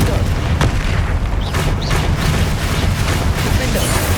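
Confringo blasting spell explosions in the Hogwarts Legacy video game, a dense, loud run of booms and bursts over rumbling game noise, with a voice casting spells.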